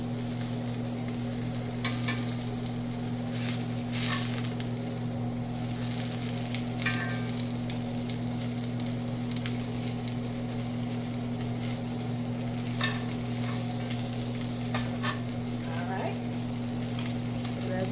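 Tofu and onions seared in a pan for BBQ tofu, producing a steady close sizzle over a constant low hum, with scattered clicks and stirring scrapes throughout.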